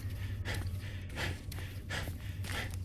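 Heavy breathing: a run of rhythmic, loud, close inhales and exhales, about five strong breaths roughly every half second, over a low steady background hum.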